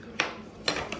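A spoon clinks against a bowl while someone eats puffed rice, with three short, light metallic taps spread over about a second and no other sound around them.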